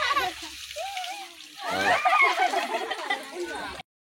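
Water is poured and splashed during a family haldi celebration, bursts of splashing mixed with children and adults talking and shouting nearby.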